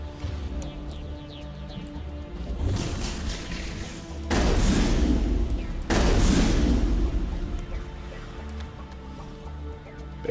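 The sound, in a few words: gunfire with Inferno rounds in Mass Effect video game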